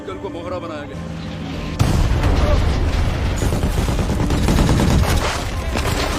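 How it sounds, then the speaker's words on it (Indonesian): Enemy mortar fire on an armored vehicle in a war film: dense, loud bursts of blasts and rapid gunfire with heavy low rumble, starting after a quieter opening and continuing without pause, mixed with voices and a narrator speaking over it. "musuh pun kembali menyerang mereka dengan senjata mortir"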